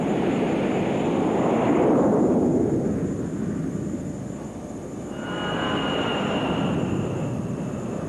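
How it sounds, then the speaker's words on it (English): A Lockheed ES-3 Viking jet launches from an aircraft carrier deck, its engine roar swelling loudly, peaking and fading into the distance, followed by a second rising whine of jet noise. "The beginning of this cycle of CQ is marked by the launch of an ES-3."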